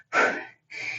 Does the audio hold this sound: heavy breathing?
yes